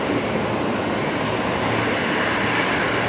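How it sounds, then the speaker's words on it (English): A Qantas Airbus A330-300 departs for Sydney, its jet engines making a steady, loud broadband roar that holds evenly throughout with no voices. "The A330 departing back down to Sydney."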